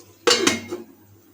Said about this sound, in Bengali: এরপর কড়াইয়ের উপর আমরা একটা ঢাকনা দিয়ে দেবো